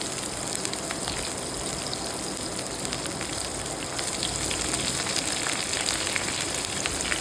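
Onions frying in hot oil in a pan for a fish recipe, a loud, dense, continuous crackling sizzle that stays steady throughout with no voices.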